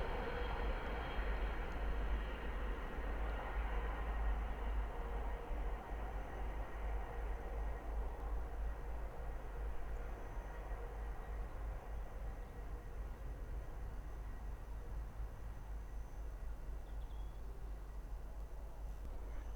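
A Thameslink Class 700 electric train from Bedford to Brighton passes Ayres End Lane on the Midland Main Line as a faint, steady rumble and whoosh that holds level throughout, with no voices.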